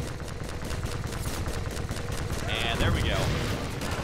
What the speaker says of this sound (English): Right, that's a lot of shots back to back.